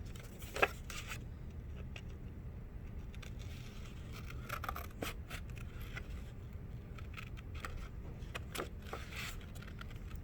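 Scissors cutting paper along a line, a series of scattered soft snips and crinkles with an occasional sharper crunch, fairly quiet over a low background hum.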